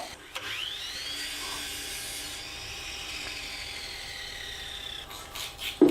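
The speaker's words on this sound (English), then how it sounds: "And cutting the miters on the miter saw." A miter saw cuts miters in a wooden workpiece in a single sustained pass of about five seconds, a steady whining cut that ends with a louder clunk as the blade finishes.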